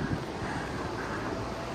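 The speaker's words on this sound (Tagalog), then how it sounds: "Dahil sobrang lakas ng hangin," Strong seaside wind in Blackpool buffeting the microphone, a constant low rumbling roar with gusty swells, steady throughout and without speech.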